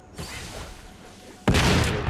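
A sticky bomb explodes in a PUBG-style battle royale game: after a low rumble, a sudden loud, broadband blast hits near the midpoint and lingers as a heavy roar.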